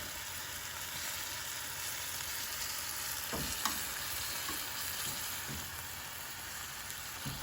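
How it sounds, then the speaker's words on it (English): Beef and vegetable stir fry with sauce sizzling steadily in a single pan, a close, even hiss with a few soft stirring clicks. "we just want to get the sauce simmering so that it can reduce a little bit for us"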